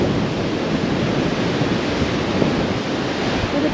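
Strong wind roars across the microphone in a continuous broadband rush, with crashing surf mixed in at a steady, loud level, at a sea cave on the coast south of Mallacoota.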